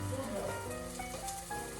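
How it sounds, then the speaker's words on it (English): Eggplant omelette frying in a pan, a steady close sizzle with soft crackles continuing throughout while a voice speaks over it. "Continue frying."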